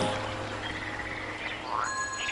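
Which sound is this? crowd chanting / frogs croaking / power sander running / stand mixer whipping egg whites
frogs croaking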